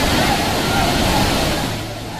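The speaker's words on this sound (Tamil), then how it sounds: "இதனால் நீர்வீழ்ச்சிகளில் தண்ணீர் ஆர்ப்பரித்து கொட்டுகிறது" Water crashing down at Courtallam waterfalls, a loud, dense, unbroken roar of falling and splashing water that fades slightly toward the end.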